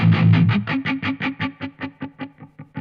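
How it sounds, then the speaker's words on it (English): An instrument passes through a low-pass filter and multi-band compression effect, producing a distorted tone that pulses steadily about five times per second, loud at first and then gradually fading. "it opens a sort of low pass filter multi-band compression thing, and it will release if I start playing"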